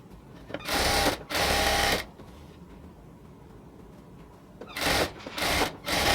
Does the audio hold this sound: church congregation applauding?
no